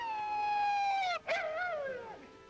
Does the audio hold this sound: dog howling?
yes